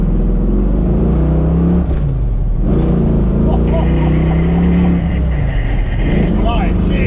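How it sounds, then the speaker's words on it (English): A 1968 Ford Mustang coupe with a stroked 351 V8 and five-speed manual roars loudly up through the revs while accelerating hard, the engine note rising and falling with gear changes as someone talks over it. "that roar of that V8"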